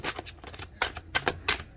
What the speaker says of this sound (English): I'll be live shuffling everything today